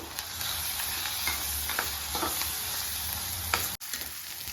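Masala of ginger and coconut frying in a pan for a brinjal potato curry gives a steady close sizzle with stirring scrapes and a sharp clack near the end.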